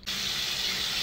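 Water running from a bathroom tap during a skincare routine, a steady close hiss that starts abruptly and flows evenly without pause.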